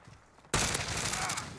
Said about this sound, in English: Man, I shot twice.